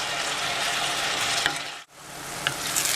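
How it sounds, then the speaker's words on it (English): Onions fry in a pan for lentil mujaddara, a steady close sizzle broken by a few short scraping stirs and one brief dropout midway. "Just keep your eye on the onions. Keep stirring them."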